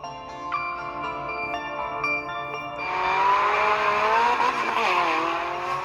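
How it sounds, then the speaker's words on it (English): An SUV speeds down a road, its engine revving with rising and falling tones and tires squealing, loud and close, layered under a sustained tonal music backdrop with no talking. "The SUV races down the road like an arrow that was shot from a bow."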